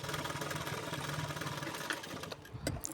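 A sewing machine stitching the folded one-inch hem of a blouse, a close, steady rapid mechanical whir that runs continuously before slowing with a few clicks at the end.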